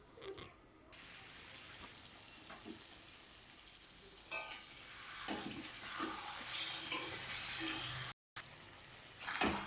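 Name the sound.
mutton being sautéed (kosha) in a pan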